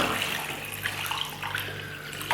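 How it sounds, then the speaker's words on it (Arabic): Water poured into a cooking pot holding a kilo of peeled, washed carrots, a steady broadband splashing rush that runs continuously at close range for the whole moment, with no talking over it. "وندير عليه إطرة ونص ماء"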